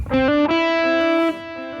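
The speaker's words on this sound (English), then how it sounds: "Also work with the volume of the distortion." An electric guitar played through a distortion effect rings out with a few sustained, buzzy overdriven notes, loud and close, then slightly quieter as the last note fades.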